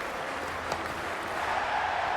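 Crowd at a women's cricket match in a stadium, a steady broad wash of applause and cheering with no clear breaks, swelling slightly toward the end.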